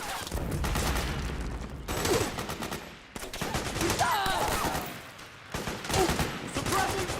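Gunfire in the video game Metal Gear Solid 4: Guns of the Patriots, with rapid bursts and a fusillade of shots in several waves separated by short lulls, with faint shouting voices mixed in.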